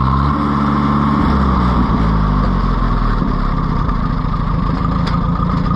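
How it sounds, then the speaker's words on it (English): Carbureted engine with the choke off, running loud and close with a steady throbbing idle that shifts pitch early on, no voices over it. "No choke on, and it idles good"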